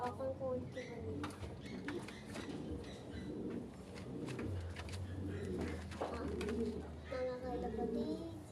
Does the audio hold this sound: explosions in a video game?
no